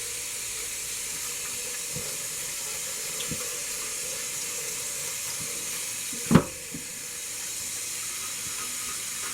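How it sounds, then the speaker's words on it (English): Running tap water pours steadily over a burned wood piece marked with Lichtenberg fractal patterns as it is scrubbed clean of loose charcoal, a soft continuous rush with a few faint knocks and one sharp clunk. "just wash it real well and scrub in all the burns and get all the loose charcoal out of it"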